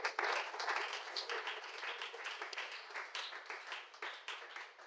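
A church congregation applauds in acclaim during a worship service, a steady dense wash of clapping lasting several seconds at moderate level with a few voices mixed in.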